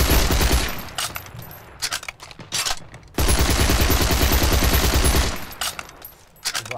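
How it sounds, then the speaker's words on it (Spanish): Gunfire in Heroes & Generals with a gold fast reload: long sustained bursts of automatic fire, loud and close, broken by a short pause with reload clatter and scattered shots before another long burst. "lo que les voy a mostrar es lo que sería la recarga rápida en oro, ¿sí? Para que vean lo rápido que carga"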